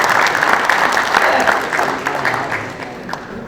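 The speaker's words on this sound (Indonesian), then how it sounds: "Tepuk tangan lagi." Audience at an official ceremony with a transport minister present claps in a sustained burst of applause that tapers off toward the end.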